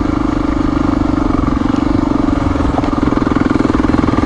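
A Honda XR400R motorcycle engine runs at a steady idle close by, a loud, even thumping putter with light mechanical clatter and no voices over it.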